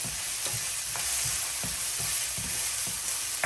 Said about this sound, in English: Let it saute.